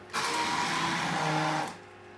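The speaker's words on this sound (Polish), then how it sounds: "ja szybciutko wjeżdżam w blender ręczny" A hand blender running in a home kitchen while preparing toasts and burgers, a steady whirring motor hum that starts abruptly, holds for about a second and a half, then cuts off, close and fairly quiet.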